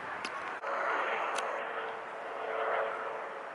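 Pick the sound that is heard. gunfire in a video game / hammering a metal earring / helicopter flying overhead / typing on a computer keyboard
helicopter flying overhead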